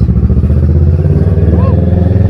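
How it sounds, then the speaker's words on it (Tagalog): Kawasaki Ninja 650 motorcycle riding through a subdivision with speed humps, its engine a steady loud low drone with a brief rising whine partway through, under a rider's voice. "Grabe lakas nito motor na to guys."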